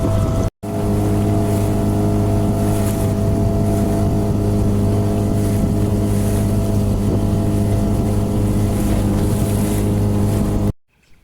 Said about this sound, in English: Going to motor up to Green Point just to give the motor a bit of a run